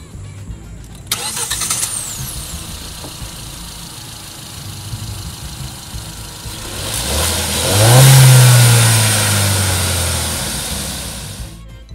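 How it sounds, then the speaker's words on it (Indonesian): Petrol engine of a 2022 Kia Carens cranking and firing up, then revving briefly before settling to a steady idle. It is heard close and fairly loud after a quiet start. "Untuk kali ini, kita review yang bensin, makanya startupnya kurang lebih seperti ini."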